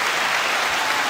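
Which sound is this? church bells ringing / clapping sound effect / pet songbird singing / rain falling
clapping sound effect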